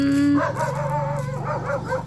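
A dog howls and whines in a long, wavering tone over steady background hum, close by.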